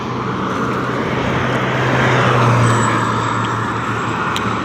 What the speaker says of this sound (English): The vehicles are so loud.